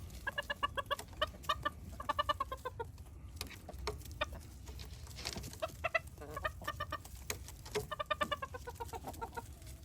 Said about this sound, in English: There's another rooster in there somewhere.